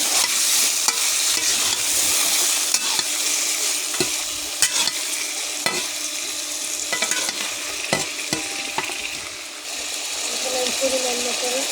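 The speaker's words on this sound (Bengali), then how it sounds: "আলু অনেক শক্ত হয়ে গেছে, এখন আমি ভালো করে নেড়ে দেবো।" Potatoes frying in a pan for ilish fish, stirred continuously, give a steady loud sizzle broken by repeated scraping strokes and clinks of the spatula, with no speech.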